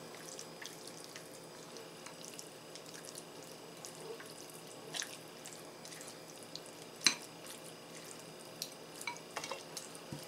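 Tuna mixed with mayonnaise is stirred in a bowl, giving soft, faint wet scraping and clicking sounds with a few sharper taps of the utensil, in a quiet room without talk.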